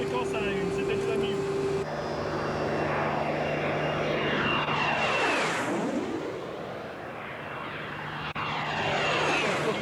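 A propeller aircraft passes overhead with a loud engine drone whose pitch rises and then sweeps down as it goes by, while people talk in the background.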